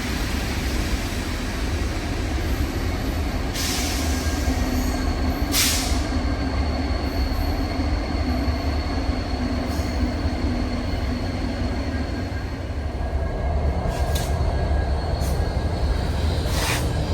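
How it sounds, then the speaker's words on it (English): Union Pacific steam locomotive 4014 rumbling steadily nearby, low and continuous, with a few sharp metallic wheel squeals. "we spotted the train again from the car while it made a brief stop"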